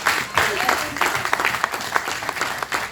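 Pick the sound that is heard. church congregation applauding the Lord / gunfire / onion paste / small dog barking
church congregation applauding the Lord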